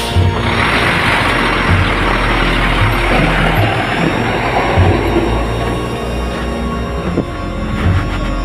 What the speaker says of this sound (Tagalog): may sasakyan sa likod